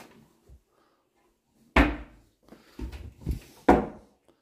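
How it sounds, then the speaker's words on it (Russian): Doors being shut in a four-room apartment in Alanya, Turkey: a few sharp, close wooden knocks and slams with quieter handling thuds between them, heard alone in a quiet room. "Видите, можно также двери закрыть или оставить как есть."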